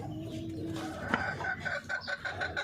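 Caged chickens cluck in a breeder's coop, short repeated calls coming in a quick rhythm over a quiet background, with no talking.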